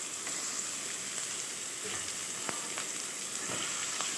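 Onion and capsicum fry in a pan with a steady low sizzle and hiss, broken by a few light stirring clicks, with no one speaking.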